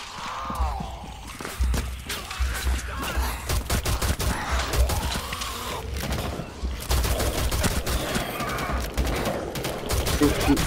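Rapid gunfire from a Rainbow Six Siege match, dense bursts of automatic shots cracking steadily through the whole stretch, loud and close, with occasional voices and game sounds mixed in.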